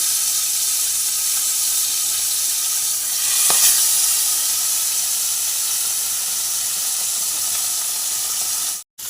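Koi fish frying in hot oil, a steady loud sizzle and hiss that runs throughout, close up, with a brief swell in the middle and a sudden cut just before the end.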